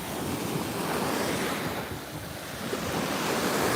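Ocean waves break on a beach in a continuous, loud roar of surf, with heavy wind buffeting the microphone and a brief dip in intensity midway before the wash swells again.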